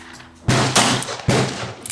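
Three sharp gunshots from a .38 Colt New Police revolver loaded with short .38 Special cases, loud and close, with brief ringing decay after each report.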